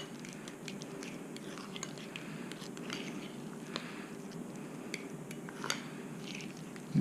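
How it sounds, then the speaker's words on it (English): A spoon stirs lime juice into a bowl of guacamole, making soft, wet, squishy scraping and faint clicks against the bowl. The sounds are quiet and steady with a few sharper taps, and nobody speaks. "I'm going to stir in the lime juice."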